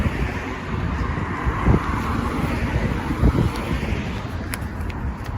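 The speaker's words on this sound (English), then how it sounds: "back in the wind" Wind buffets a microphone on a city street at Portage Avenue and Wolseley, a steady close rumbling roar with a few gusty swells and faint traffic behind it.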